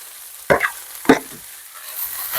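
Beef stir-frying in a hot pan, two sharp sizzling bursts as the meat is tossed, fading between, then a rising hiss of frying toward the end, no talking.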